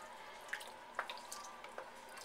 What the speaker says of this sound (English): I'm going to slowly pour in 2 cups